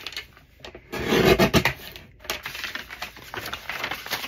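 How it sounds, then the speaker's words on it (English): A paper bag is folded lightly by hand, giving close, dry rubbing and crinkling with a louder scraping burst in the middle, then softer rustles. "I'm just kind of lightly going to fold this"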